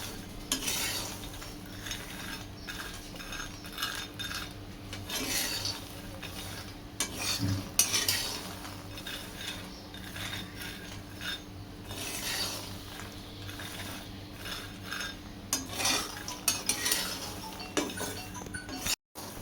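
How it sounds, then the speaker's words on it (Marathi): Raw peanuts dry-roast in a hot kadhai over a high flame while being stirred without pause, giving a steady close scraping and rattling that runs about twenty seconds with no voices. "2 मिनिट आपल्या शेंगा गरम होईपर्यंत असं हलवत राहायचं आहे।"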